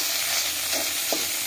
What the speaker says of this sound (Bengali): গুলে রাখা ডিমটাকে এবার আমরা ঝুড়ো ভাজা করে নিচ্ছি। খুন্তি দিয়ে কেটে কেটে একটু ঝুড়ো ভাজা করে নেব।